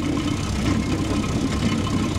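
A car rolls on concrete wheels, giving a loud, continuous rumbling grind with an engine drone beneath, close by.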